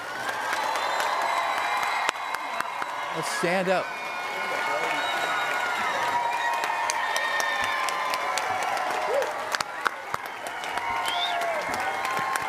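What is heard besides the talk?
applause for graduates at commencement ceremony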